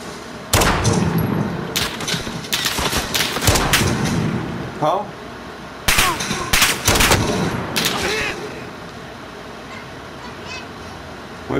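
Sniper rifle fire in Call of Duty Modern Warfare, loud sharp shots in clusters, with a gap and then another burst over game noise and talking.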